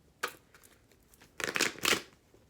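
Tarot cards shuffled by hand: a sharp riffle, a soft pause, then two louder papery bursts of cards slapping and sliding, close and quiet with no talking.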